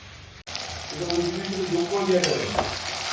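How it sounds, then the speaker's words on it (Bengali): Potatoes and onions fry in a pan with a loud, steady sizzle and occasional stirring scrapes, close up and continuous after a brief cut at the start. "মেয়ের জন্য একটু আলু পেঁয়াজ ভাজা করছি"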